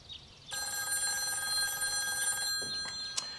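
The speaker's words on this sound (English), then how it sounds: "Excuse me just one moment while I make another quick phone call." A telephone rings loudly and steadily while an outgoing call is placed, with faint clicks and small bumps near the end.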